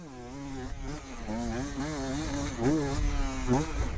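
A motorcycle engine revs up and down close by, its droning pitch rising and falling in repeated surges throughout.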